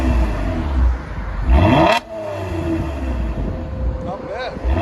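A 2020 Toyota Camry V6 TRD Edition with dual exhaust and the resonator deleted revs hard, climbing to a peak around two seconds and then settling into a steady, loud drone.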